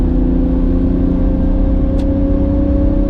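A Toyota LandCruiser pulls hard through the gears, its engine a loud, steady mid-pitched drone heard from inside the cabin, with a brief whine near the middle.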